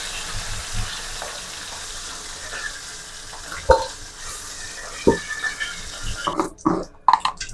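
Hilsa fish pieces frying in oil in a home kitchen pan, a soft steady sizzle with occasional clinks and spatula taps, a few louder knocks toward the end.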